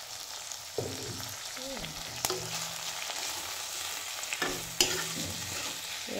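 Boiled duck meat stirred and frying in oil in a pan, a steady low sizzle with occasional scraping stirs and a few sharp utensil taps against the pan.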